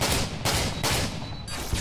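Rapid bursts of video-game gunfire from a rooftop trick-shot fight, with several loud, close shots in quick succession and no voices.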